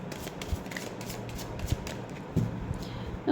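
Tarot cards are shuffled by hand in a soft, close riffle of papery slaps and flicks, with a few sharper taps.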